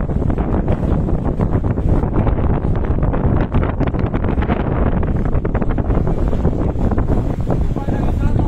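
Strong gusting wind at Lakeba Beach in Baubau, Southeast Sulawesi, during a whirlwind, buffeting the microphone in a loud, constant roar, with people talking faintly underneath.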